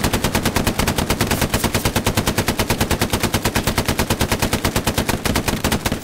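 Sustained machine gun fire in the World War II shooter Hell Let Loose: a loud, close, relentless stream of evenly spaced rapid shots that runs unbroken for about six seconds.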